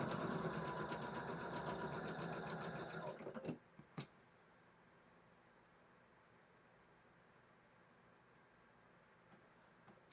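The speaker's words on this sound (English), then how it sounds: "stitch this right along that seam allowance" A sewing machine stitches along a seam with a fast, steady mechanical whir for about three seconds, then stops with a couple of soft clicks before quiet room noise.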